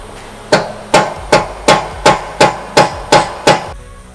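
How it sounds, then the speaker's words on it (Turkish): Plastic hammer striking a car tie rod end during a steering repair, nine sharp, evenly spaced impacts about every 0.4 seconds, loud and close with no talking. "çekiçleme işi biraz uzun sürdü ve biraz daha büyük bir çekiç gerekti"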